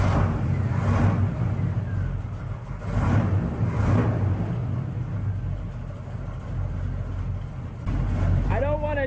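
A Chevrolet squarebody truck idles inside a garage bay with a steady, low engine rumble. Its loudness swells slightly a few times, and a brief squeaky sound comes near the end.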